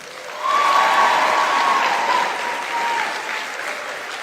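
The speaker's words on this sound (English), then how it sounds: "He deserves a round of applause." An audience bursts into loud, sustained applause that swells quickly and holds steady before easing off slightly, with a faint crowd murmur beneath.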